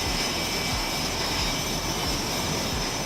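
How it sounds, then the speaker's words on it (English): Jet engines run up on the deck of a U.S. Navy aircraft carrier, a steady, loud roar that fills the whole clip without pause, with no talk over it. "The rumble of jet engines occasionally pierces the din as technicians perform"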